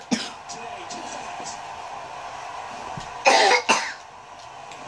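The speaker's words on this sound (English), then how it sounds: "And I just coughed in my sock." Cough muffled into a sock, two short bursts in quick succession near the middle, with a faint room and game background around them.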